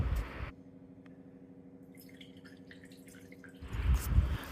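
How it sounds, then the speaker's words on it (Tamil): About two cups of water are poured into a pan in a home kitchen to boil vegetables for a raw mango curry. A short splashing pour at the start is followed by a quiet stretch with a low hum, then a louder gush of water near the end. "அதுக்கு ஒரு பேனில் 2 கப் அளவுக்கு தண்ணி சேர்க்குறேன்"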